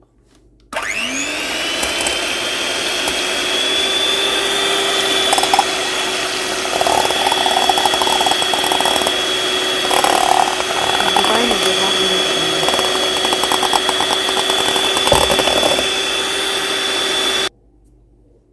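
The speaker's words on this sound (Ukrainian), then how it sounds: "Спочатку збиваємо яйця." Electric hand mixer whirring steadily as it beats eggs with sugar for a charlotte sponge cake, a loud continuous motor whine starting abruptly and cutting off near the end, with faint clattering of beaters against the bowl.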